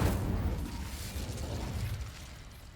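Incendio fire spell cast in Hogwarts Legacy, a loud whooshing burst of flame at the start that fades into a rumbling, crackling roar over a few seconds, with no voices.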